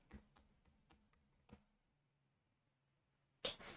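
Keys clacking on a computer keyboard during a live stock-trading session, several scattered taps in the first second and a half, then a pause and one louder burst of keystrokes near the end.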